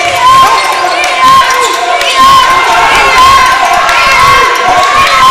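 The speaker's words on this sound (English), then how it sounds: "credit to the Spartans crowd. They are giving their team some encouragement" A home Spartans crowd at a high school boys basketball game against the Hornets cheers and shouts loudly and continuously. Shrill whistles and sneaker squeaks cut through the sustained roar, with some voices mixed in.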